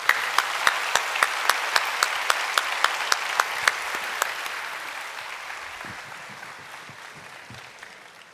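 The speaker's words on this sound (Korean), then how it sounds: "나오실 때 우리 박수로 맞이해 주시기를 바랍니다" Church congregation applauding to welcome a testimony speaker, steady crowd clapping with a few sharp individual claps standing out early, gradually fading toward the end.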